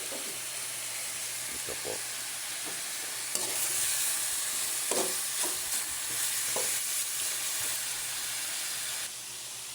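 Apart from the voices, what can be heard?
sautéing native chicken for tinola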